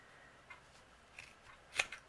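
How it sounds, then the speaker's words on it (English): Dull scissors cutting through material while making a tassel doll, a few faint, separate snips spread out, with the last one the loudest and sharpest, and no talking. "You may have to spread it out if you have dull scissors like I do right now."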